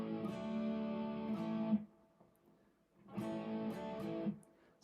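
Electric guitar riff played as a lesson: two strummed, ringing chord bursts of about two seconds each, separated by a brief pause, clear and moderately loud.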